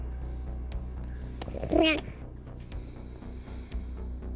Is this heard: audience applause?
no